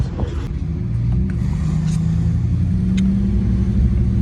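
A pickup truck pulls away from a lumber yard, its engine a steady, close low rumble that holds throughout with a slight rise as it accelerates, no talking.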